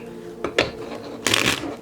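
A deck of cards is shuffled up close in two quick riffle bursts, short crisp flutters with a pause between them and no talk.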